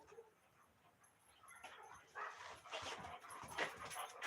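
A dog whimpers and yips faintly in short, uneven bursts against a quiet indoor background, the sounds growing slightly louder toward the end.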